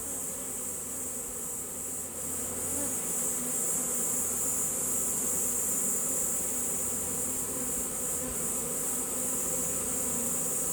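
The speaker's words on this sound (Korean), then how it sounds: "꿀벌들이 열심히 달라붙고 있습니다" Honeybees clinging to a beehive make a steady, dense buzzing drone, close and continuous throughout with no pauses and no voices.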